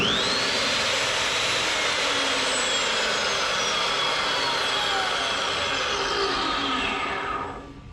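A Fein cold-cut chop saw runs steadily for several seconds, a loud continuous whir with a high whine, easing off slightly at the end as it spins down.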